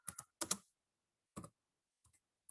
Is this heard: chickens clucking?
no